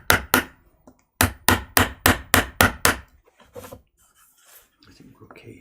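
A hammer strikes in a quick, regular series of about nine sharp, loud blows, with a pause after the first two, then fades into faint low shuffling.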